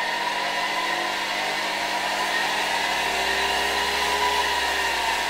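A 1964 SK-5b electric motor from an Alfa K2 vacuum cleaner runs steadily, a loud continuous whine with a broad airy rush and low hum, holding an even level throughout with no voices.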